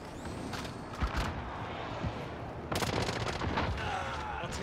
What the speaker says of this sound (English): I shot him through the wall